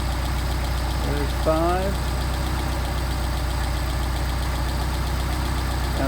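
Car engine idling steadily with a rebuilt Solex carburetor being adjusted, a constant close mechanical drone with a faint whine rising briefly, while someone talks over it.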